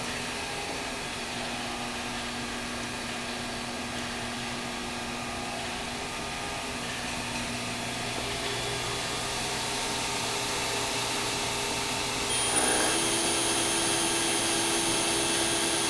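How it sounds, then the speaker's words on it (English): Kellenberger CNC cylindrical grinder work head spinning up at about 100 RPM: a steady, even machine hum and hiss in a workshop that swells slightly partway through, with a faint high whine joining near the end. "We're also going to turn on our work head."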